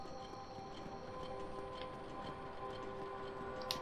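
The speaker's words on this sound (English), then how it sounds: "I can also hear ticking." A faint, steady ticking like a clock runs through a quiet Dark Souls game scene, evenly spaced clicks sitting over a low hum and soft sustained tones, with no voices.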